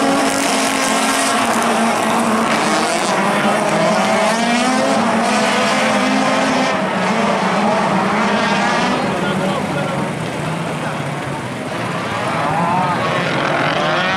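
Race cars roar past at a Poříčí nad Sázavou motorsport event in the special category, engines loud and continuous with rising and falling pitch, while an announcer talks over them.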